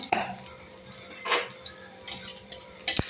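A utensil scrapes and knocks against a frying pan as cumin and radhuni are stirred for tempering in a Bengali kitchen, a few short sparse clinks over quiet sizzle.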